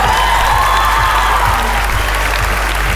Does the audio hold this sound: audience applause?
yes